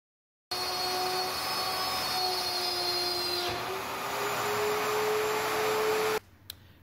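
CNC machine cutting, its stepper motors driven by TB6600 or DM556T drivers, gives a steady loud whine with sustained tones that shift pitch partway through, running continuously before cutting off abruptly near the end.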